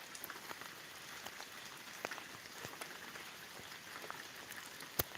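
Rain falling steadily in an open area around a standing cow, a faint, even patter with scattered louder drops and no talk.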